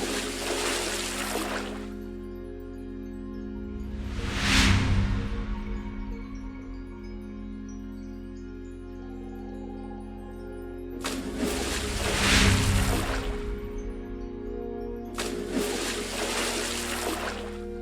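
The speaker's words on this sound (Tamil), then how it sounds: "தண்ணி ஊற்றி க்ளீன் பண்ணாங்க" Several separate bursts of water are poured and splashed into a toilet to clean it, each lasting a couple of seconds, with a low hum in the quiet gaps.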